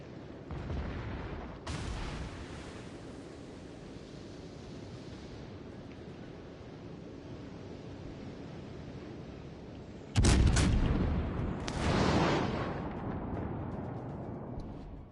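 Warship guns fire in World of Warships Legends, with two sharp, loud booming salvos, the later one heavier, set against a steady low rumble of ocean and engines.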